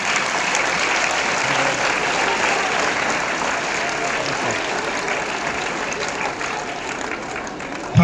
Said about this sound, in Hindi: अपने लिए ताली बजा के दिखाओ